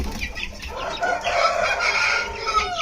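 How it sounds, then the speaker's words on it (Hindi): A great-grandfather breeding rooster crows loudly and close, one long drawn-out call rising and falling over about three seconds, with no one speaking. "और ये है परदादा मुर्गा जनाब"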